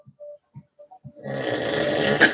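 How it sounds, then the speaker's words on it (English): A sleeping man snores loudly indoors, a few short soft breaths and snorts building into one long, heavy, rasping snore that fills the room, close and with no one talking. "I can't with you snoring as loud as you're snoring."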